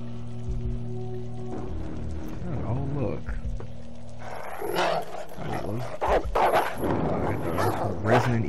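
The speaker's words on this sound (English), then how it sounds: "Dogs." Growling, barking dogs in the PS1-era survival horror game Alone in the Dark: The New Nightmare, snarling and yelping over a low droning score.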